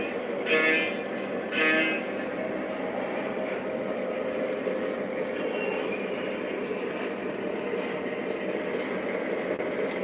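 A Lionel model train hauls ore cars with custom loads along a layout, a steady close rumbling roll with a couple of brief louder bursts near the start.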